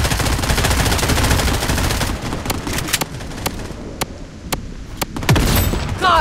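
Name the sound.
gunfire in the video game Bloodstrike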